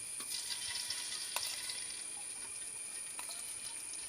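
Around four spoons of ghee heat in a pan, giving a faint, steady high sizzle with a few light clicks and taps.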